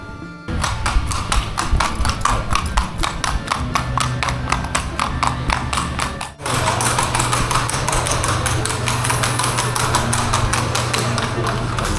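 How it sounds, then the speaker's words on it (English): Horses' hooves clip-clop on a town street in Colombia's coffee region, a rapid, regular train of sharp taps from several animals close by, loud and continuous with a brief dip partway through. "This is the way that the horses kind of gallop around here."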